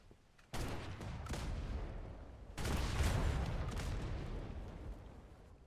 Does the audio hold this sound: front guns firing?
yes